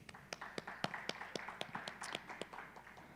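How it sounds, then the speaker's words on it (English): Small audience at a business model competition giving a brief round of applause for a judge, light scattered claps at a moderate distance. "A little round of applause for Jeremy."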